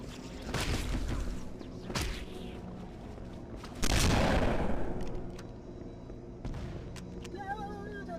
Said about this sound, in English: Just hearing distant explosions of the guys popping.